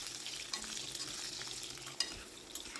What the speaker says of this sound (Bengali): আলুটাকে মোটামুটি ওই 2 মিনিট মতো হালকা করে ভেজে নেব